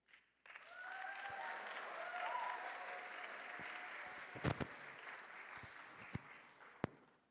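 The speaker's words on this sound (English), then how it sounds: "I've never gotten applause for praying before." A crowd applauds steadily, a dense wash of clapping that holds for several seconds before tapering off, with a few sharper claps near the end.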